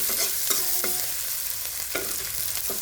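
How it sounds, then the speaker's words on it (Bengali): Onions and green chilies frying in soybean oil for a Bangladeshi mashed-potato dish, a steady sizzle broken by repeated clinks and scrapes of stirring, close and moderately loud, with no talking. "আমি এখন পেঁয়াজগুলো তেলের ভেজে নিচ্ছি আলু ভর্তার জন্য।"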